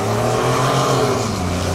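Ford F-150 EcoBoost pickup and Dodge Hemi V8 launching side by side in a drag race, a loud, steady engine roar with a low droning tone held throughout.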